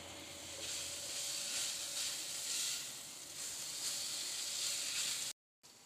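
Minced meat (keema) with spices cooks in a pan, giving a steady, close sizzling hiss that runs almost without a break before cutting out briefly near the end.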